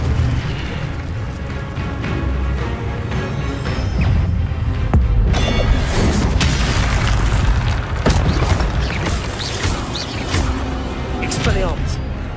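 A fire spell, Incendio, cast in Hogwarts Legacy bursts out as booming blasts within dense game noise, with a voice speaking over it.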